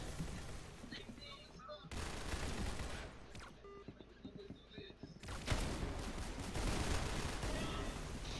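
Dense gunfire from the Roblox game Arsenal, loud bursts of rapid shots filling most of the stretch with brief lulls, mixed with game effects and some talk.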